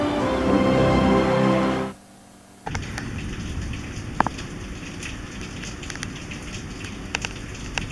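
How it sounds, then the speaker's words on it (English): Rain falls in a steady dense patter, first loud and full, then briefly cut away to near silence before a lighter hiss of drops resumes with occasional sharper taps, heard up close without any voices. "Rain is nice."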